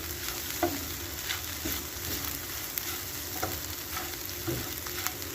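An egg frying and browning in a pan gives a steady, soft sizzle with faint stirring scrapes, heard close and alone.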